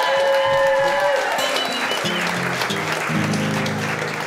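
Audience applause at a Tuesday night concert of folk music, sustained and full through the whole stretch, with a voice briefly speaking at the start and faint musical tones underneath.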